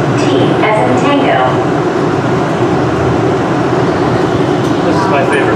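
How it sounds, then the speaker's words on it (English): The Atlanta Airport Plane Train departs, giving a loud, continuous rumble and hum from inside the car, with faint speech in the background. "This train is departing."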